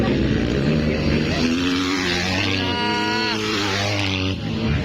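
Racing motorcycle engines at a Pro Lite final race wind up loudly, one bike revving hard and climbing through rising pitch sweeps, with a crowd and other bikes roaring continuously beneath.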